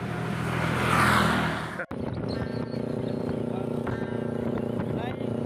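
A Ninja ZX motorcycle goes by on a rural outing: a rush of wind-like noise opens, then a steady, moderately loud engine drone hums on, with a voice in the background.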